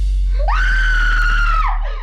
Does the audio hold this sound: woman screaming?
yes